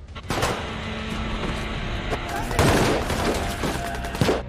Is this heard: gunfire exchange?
yes